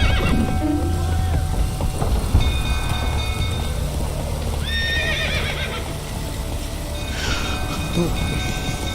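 Horse neighing and hooves clip-clopping in The Witcher 3 video game, with whinnies rising over a steady bed of game ambience and trotting hoof beats, rumbling background throughout.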